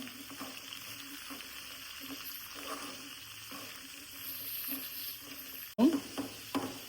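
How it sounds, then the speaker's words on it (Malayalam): Onions softening with a spoonful of salt in a pan for Onam onion curry, a low steady sizzle with soft stirring scrapes throughout, ending in a few louder clatters of the spoon against the pan. "അതിലേക്ക് ഒരു സ്പൂൺ ഉപ്പിട്ട് കൊടുക്കാം നല്ലവണ്ണം വയറ്റി കൊടുക്കാമേ"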